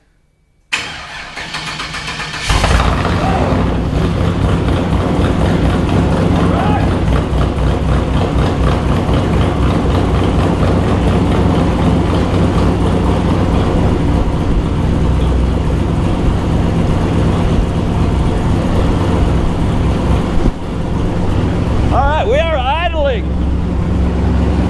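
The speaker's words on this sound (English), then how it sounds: "let's see if it cranks over" A 1973 GMC Jimmy's 6.0 LS engine cranks briefly on a weak battery, then catches and settles into a loud, steady close idle that runs on for about twenty seconds, with a voice speaking briefly near the end.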